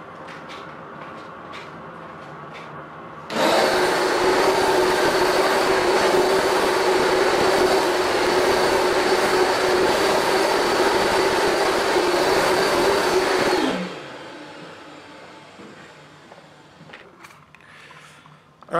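A Rug Doctor Mighty Pro X3 or Bissell DeepClean ProHeat carpet cleaner running over carpet, a loud steady motor whine and suction roar that starts abruptly, holds for about ten seconds, then winds down.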